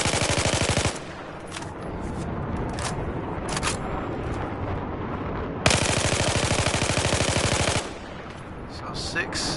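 Carbine rifle fire on a Battlefield 4 shooting range: two loud bursts of rapid automatic shots, one at the start and a longer one midway, with quieter single shots and a lower rumble in between.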